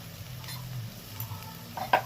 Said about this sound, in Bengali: এইবার এটাকে কষানোর পালা ভালো করে কষাতে হবে